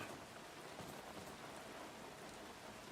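Steady outdoor rain falls evenly and densely, a constant close patter on surfaces with no voices.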